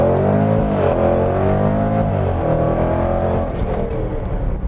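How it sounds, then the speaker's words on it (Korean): A Jaguar F-Pace SVR performance SUV, 550 horsepower, accelerates hard to 100 km/h, its engine roaring loud and close and rising in pitch through quick gear changes before easing off at the end. "덩치가 있는 SUV인데 마치 레이싱카처럼 아주 절도 있는 가속감 보이면서"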